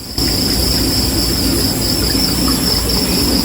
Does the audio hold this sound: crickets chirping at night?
yes